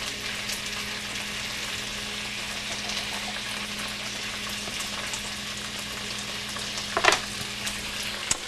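Food frying in a pan on a home kitchen stove, a constant sizzling hiss with small crackles and a brief louder spatter near the end, no talking.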